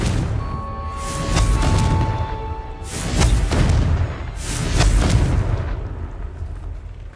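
Deep booming blasts from the Confringo fire spell in Hogwarts Legacy, three heavy rumbling explosions rolling one after another, loud and close with no talk.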